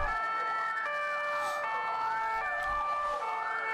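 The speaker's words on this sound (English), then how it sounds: "That siren cadence." A Slovakian Tatra fire truck's siren wails loud and close, its tones sweeping up and down in a steady repeating cadence with no pause and no voices.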